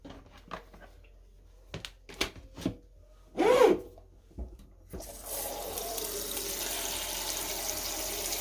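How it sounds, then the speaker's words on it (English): Water runs from a tap into a food steamer, a steady rushing hiss that starts midway and continues to the end, preceded by scattered clicks, clatters and a brief burst of handling noise. "Going to put some water in my steamer so I can get that going"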